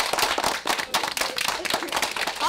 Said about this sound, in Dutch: Houd toch op met klappen